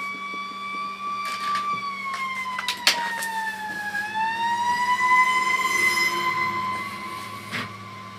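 A fire engine passes by with its siren wailing as a rising and falling tone, a few sharp knocks sounding over it, with steady background hum and no voices.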